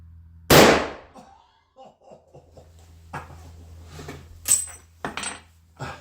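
One sharp, loud shot from a Ruger No. 1 rifle chambered in .375 H&H, near and sudden, followed by quiet handling clatter and a few short voiced sounds.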